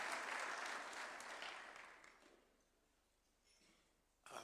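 Guests at a State House reception applaud as a club secretary general is introduced, with steady clapping at first that gradually fades to near silence before a short noise at the end.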